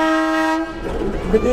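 A T435 diesel locomotive at the Košice depot sounds one loud, sustained horn blast for about half a second, then a voice speaks over rumbling yard noise.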